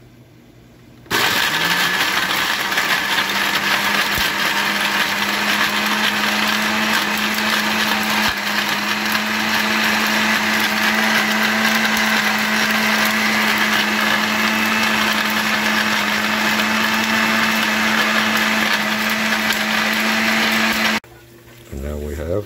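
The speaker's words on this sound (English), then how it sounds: "Got our dried meat in the blender." A countertop blender grinds dried meat into powder, a loud steady motor whine that starts abruptly and runs continuously for about twenty seconds before cutting off.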